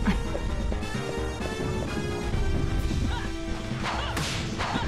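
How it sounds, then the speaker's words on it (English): Whip strikes in Castlevania: Legacy of Darkness land as snappy slaps, a few spaced cracks and swishes over a busy bed of game music and effects, with no voices. "I love the slappy sound."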